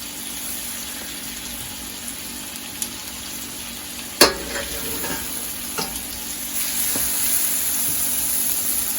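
French toast frying in a pan, a soft steady sizzle with a sharp clatter near the middle and a few lighter knocks, the frying growing slightly brighter toward the end.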